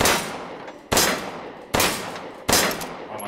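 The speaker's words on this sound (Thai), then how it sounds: "นี่คือการยิงปืนใน Resident Evil Village ณลานซ้อมยิงใน VR นะครับ" Four sharp pistol gunshots fired one at a time on a VR shooting range in Resident Evil Village, each a loud crack with a ringing tail, spaced just under a second apart, with no talking.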